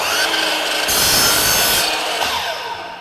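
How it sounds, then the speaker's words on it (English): A miter saw spins its blade through a piece of material, giving a loud, steady grinding and rubbing roar that rises into a denser cut midway and eases off toward the end, with no talk over it. "I want to make sure that this blade is fully reciprocating before I make contact with that material."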